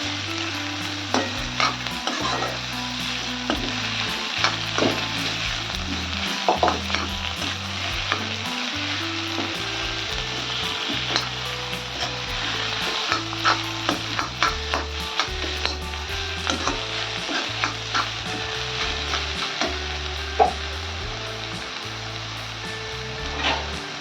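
Tarota (taklya) wild monsoon greens sautéing in a pan, with a steady sizzle and repeated stirring scrapes and clicks of a spatula running throughout, close and fairly loud, with no voices.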